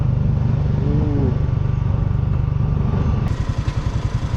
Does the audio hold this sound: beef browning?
no